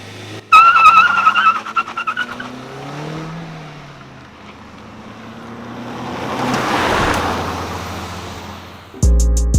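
A Suzuki Ciaz with a stage 1 ECU remap drives along, its engine and road noise swelling and fading, with a sharp burst near the start and a loud thump at the end.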